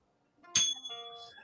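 A single bright notification-bell ding, struck once and left to ring out with a clear, sustained metallic tone that fades over about a second.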